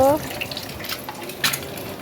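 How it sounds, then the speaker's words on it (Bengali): Sliced onion and garlic sizzle in hot oil left over from frying eggs, a steady close frying hiss with light stirring clatter, opening with a brief voice. "ওই তেলে কিন্তু আমি এই যে পেঁয়াজ রসুন দিয়ে দিলাম"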